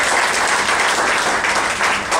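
Sustained round of applause from an awards audience at a volunteer of the year ceremony, for a youth centre's representatives; dense steady clapping fills the hall, loud and continuous throughout.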